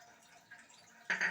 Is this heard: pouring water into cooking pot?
yes